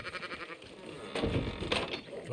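Sheep bleat in a Red Dead Redemption 2 field, a few moderately loud calls rising over game ambience while a voice speaks nearby.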